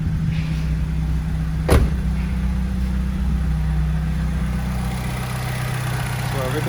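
An Alfa Romeo 159 with a 2.2 JTS engine and a flat battery fires with a short sharp burst. It then settles into a steady, close idle that runs on without a break.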